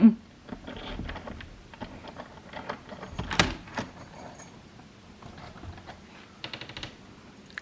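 A bunch of door keys jangles in the middle of a barndominium door installation, with a loud burst of metallic clinking near the middle amid scattered handling clicks and light rustling.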